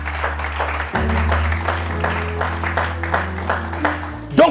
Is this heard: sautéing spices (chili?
no